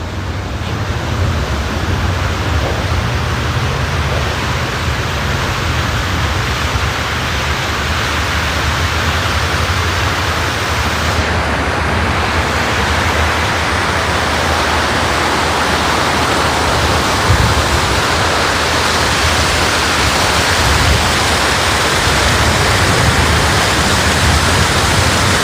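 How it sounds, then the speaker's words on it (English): Water fountain at the National Gallery of Art East Building in Washington, DC, a steady, loud, broadband rush of splashing water that holds unchanged throughout. "let's go enjoy some water fountain sounds for a moment"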